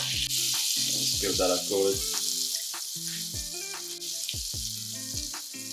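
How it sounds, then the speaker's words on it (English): Butter melts in a pan with a steady, soft sizzling hiss, heard beneath louder background music, and a voice speaks briefly. "So I'm going to begin by adding in 20 grams of butter, and I'm just going to let that melt."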